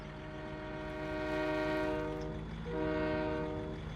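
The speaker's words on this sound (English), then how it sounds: "Train coming through." In Farming Simulator 17, a train rumbles past while its horn blares in two long sustained blasts with a short break between, loud and close, with no talk.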